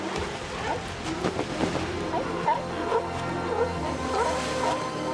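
Australian sea lions barking at Seal Bay, a breeding colony; repeated gruff barks and calls rise over a steady coastal wash, some near and some farther off, with no talk.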